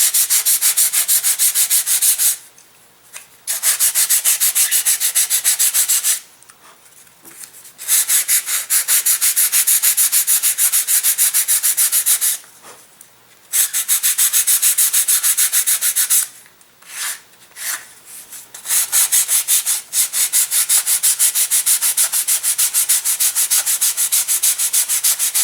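Sanding a bevel along the wing of a Super Protege 2020 elastic-launched glider, with bursts of loud, hissing abrasive rubbing on wood separated by several brief pauses, close and alone.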